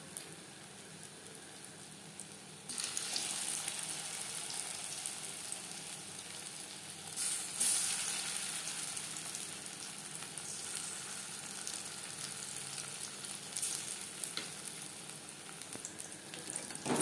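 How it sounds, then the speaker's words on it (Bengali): Stuffed pointed gourds (potol) frying in hot oil, a steady close crackling sizzle that swells after a few seconds and continues to the end, with no talk. "প্রত্যেক ব্যাচের পটল একইভাবে ভেজে নেব।"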